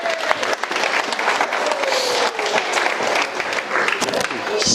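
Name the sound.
wedding guests applauding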